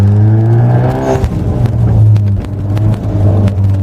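A 2020 Hyundai i30 N Line 1.6 turbo revs loudly nearby, with rapid sharp gunshot-like exhaust pops and crackles cutting through the rising and falling drone.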